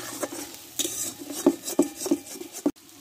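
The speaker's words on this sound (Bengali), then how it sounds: "মশলার সঙ্গে ভালো করে আলুটা একটু কষে নেব" Potatoes stirred with spices, coriander leaves and slit green chillies in a pan for chana dal, with a spatula scraping and knocking in several sharp, close strokes over a low sizzle.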